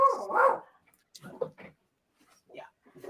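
A dog gives a few short barks and yips, scattered and fairly close, mixed in among bits of talk.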